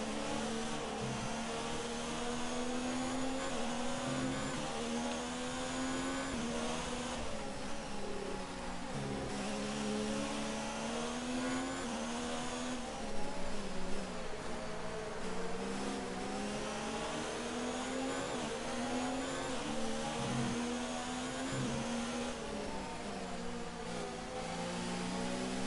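A Ferrari Formula 1 car in the F1 2019 video game races the German Grand Prix in heavy rain. Its high-revving engine whines steadily and rises and falls through gear changes and corners, loud and continuous for the whole stretch.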